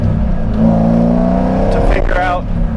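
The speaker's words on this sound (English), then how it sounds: "I'm trying to just drive the car" A C5 Corvette with an active handling system fault driving and accelerating, engine note rising steadily in pitch close by, while someone talks over it.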